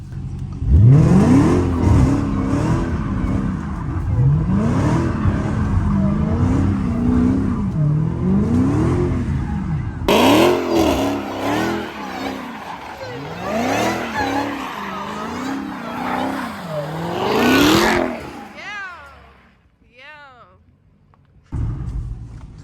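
A Dodge Hellcat roars and revs repeatedly while spinning its tires in snow, the engine surging up and down in waves with whining tires, then dropping to near silence before a final burst.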